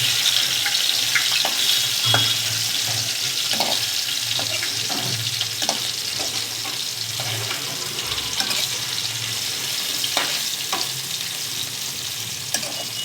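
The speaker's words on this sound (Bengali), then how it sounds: "এরকম করে সব দিয়ে ভেজে নেব।" Chicken tikia patties, minced chicken cakes, sizzle and crackle steadily in hot oil in a pan over lowered gas, with occasional sharper spits and pops over a continuous frying hiss.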